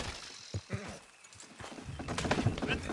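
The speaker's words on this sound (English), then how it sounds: "Horses will pull it clean down" Hooves clop on the ground as horses walk, close by, with people speaking over the steady plodding.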